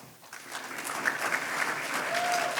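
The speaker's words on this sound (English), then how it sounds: "Please give yourself a round of applause." A large indoor audience of roughly 300 to 400 people at a professional leadership masterclass claps steadily, a dense and even burst of applause that continues for a few seconds with no voices over it.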